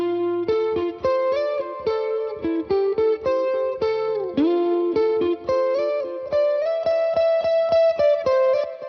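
Two lead electric guitars play the same melodic line in unison, stacked into one thick, bright tone with distinct picked notes in a steady rhythm, effects and reverb on the sound, close and loud with no voices.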